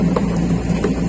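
A motorcycle engine running steadily nearby, a constant mid-pitched hum with no change in pace, near a stream being cleared of rubbish.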